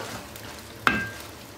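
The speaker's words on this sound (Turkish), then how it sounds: "Yarım su bardağından az su ilave ediyorum." A little water splashes into hot oil with ground pepper, cumin, black pepper and salt, giving one sudden close burst of sizzling that quickly settles into a softer crackle.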